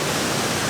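Steady broadband roar of a waterfall and river in light rain at a Tasmanian falls, continuous and close with no pauses.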